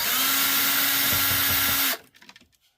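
Power drill backing out screws from the front of a converter and circuit breaker panel in a Forest River Greywolf 26RR camper, a loud steady whine for about two seconds that stops abruptly, followed by faint clicks and handling.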